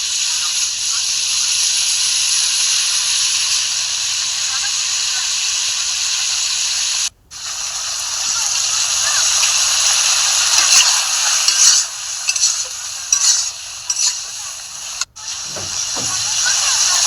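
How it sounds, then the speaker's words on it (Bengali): Potato pieces and vegetable stalks stir-fry in a pan for a grass carp fish curry, giving a bright, continuous close hiss with scraping stirs and a couple of abrupt breaks. "এখন নেড়ে চেড়ে ভালো করে কষিয়ে নেব।"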